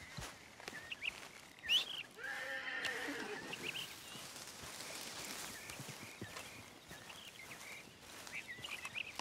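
A horse whinnies early in a Western-themed video game, then its hooves and ambient outdoor game sounds continue faintly at a distance without speech.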